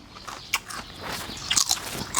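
A crunchy bite into fresh-shrimp tam sua, a Lao-Isan papaya salad with rolled khanom jeen rice noodles, gives several crisp crackling chomps up close, with the loudest bursts near the end.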